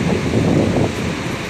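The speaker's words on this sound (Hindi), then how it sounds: "काफ़ी तेज हवा चल रहा है।" Strong wind roars steadily across the microphone, a dense rumbling buffet with no voices, loud and close throughout.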